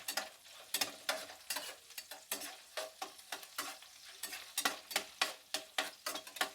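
Sliced onion sizzles in a frying pan while a spoon scrapes and stirs in a steady rhythm of close, regular strokes, about a dozen sharp scrapes over the continuous hiss, with no talking.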